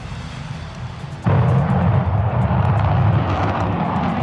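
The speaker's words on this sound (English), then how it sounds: "Watch the Flamingo Fly." A Ukrainian Flamingo missile in flight sets off a sudden, loud, sustained jet-like roar that starts abruptly over quieter rumbling and stays powerful to the end.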